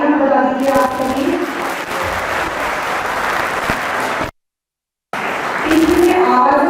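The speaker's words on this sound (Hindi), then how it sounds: "तालियां बजा दीजिए आप सभी।" An audience claps at a folk festival gathering, with sustained, fairly loud applause and a voice over it. The sound drops out completely for a moment, then the clapping resumes.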